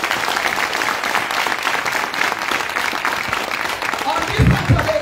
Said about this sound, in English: Una loud clap for us.